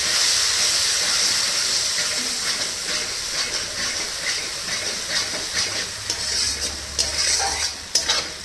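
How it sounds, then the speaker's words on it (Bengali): A little water poured into a hot, sizzling pan of doi katla fish curry sends up a loud, steady steamy hiss that gradually settles, with a few spoon scrapes and clinks near the end, close up. "একটু সামান্য জল দিয়ে দিচ্ছি।"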